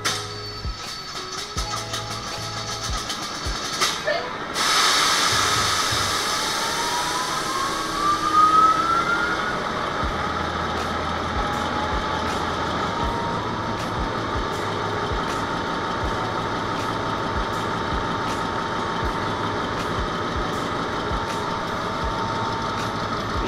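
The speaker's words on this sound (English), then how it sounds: "This is a 8-cylinder diesel generator." An 8-cylinder diesel generator is started up and then runs, a steady loud mechanical roar with a high whine that settles into a continuous drone, and no talking.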